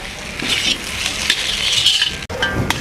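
Onion and potato kachori masala cooking in a pan on low heat, a steady close sizzle with repeated scraping and stirring of a spoon against the pan and no talking.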